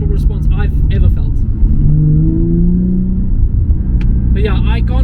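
A Nissan 350Z HR with its engine revving on quick throttle blips in second gear, a deep, steady rumble rising in pitch briefly mid-clip, heard from inside the car with someone talking over it.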